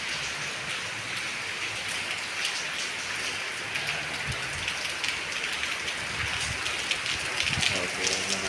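Steady rainfall at night in an Arab country, a constant hiss of drops hitting surfaces, moderately loud and continuous, with a voice speaking faintly underneath.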